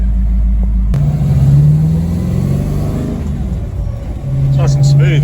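Dodge Daytona with a modern 6.4 Hemi V8 and five-speed TKX manual cruising, its deep engine rumble steady and close, rising briefly as it revs, with occasional cabin noise.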